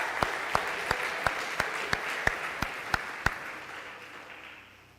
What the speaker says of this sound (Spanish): Démosle un aplauso al Señor por la vida del pastor Camilo.